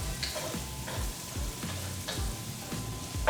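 Minced garlic sizzles steadily in a pan while being stirred, with a soft continuous fry punctuated by rhythmic scrapes of a utensil against the pan roughly every half second, close and without talk.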